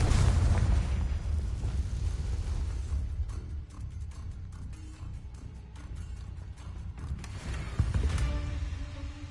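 A Confringo fire spell exploding in the Hogwarts Legacy video game: a loud, rumbling blast at the start that fades into crackling and creaking debris, followed by a second boom near the end.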